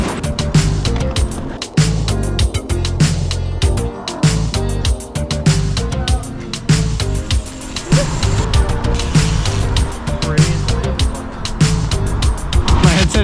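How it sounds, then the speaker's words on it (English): Crash-damaged bicycle ridden in winter, its loose wheel hopping and brakes rubbing, gives a busy, rattling, scraping drone with repeated rhythmic clicks and knocks over road noise, loud and close throughout. "The brakes are rubbing."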